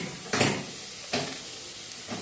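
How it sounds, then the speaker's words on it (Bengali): Cauliflower and onion frying in a pan with a steady sizzle, broken by three bursts of stirring scrapes spaced through the clip. "ফুলকপিটাও পেঁয়াজের সাথে একটু নাড়াচাড়া করে নেবো"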